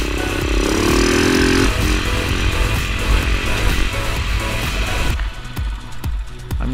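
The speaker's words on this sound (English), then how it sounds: "And despite a recent back operation, Andy's starting to get the hang of that little Beta cross trainer" A small Beta cross trainer enduro motorcycle rides on forest trails, its engine revving and droning loudly close up, with rough clattering over the ground and sharp throttle blips later on.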